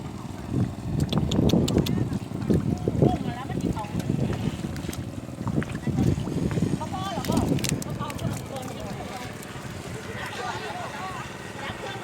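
A running engine on a pump draining a fish pond in cold, windy weather gives a steady low drone beneath continuous talking, with wind buffeting the microphone.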